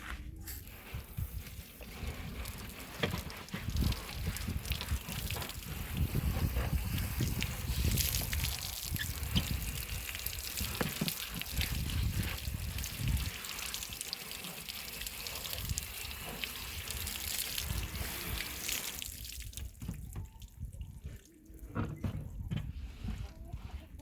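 Water from a hose or tap splashes steadily and close over a freshly processed turkey as it is rinsed out. The wash runs continuously and loudly for most of the stretch, then drops away near the end, with voices talking over it.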